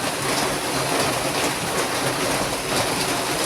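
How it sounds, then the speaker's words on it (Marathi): Heavy rain pours down in a loud, dense, unbroken hiss that fills the whole stretch, with no voices over it. "इतका जोरात इतका जोरात पाऊस चालू झालेला आहे"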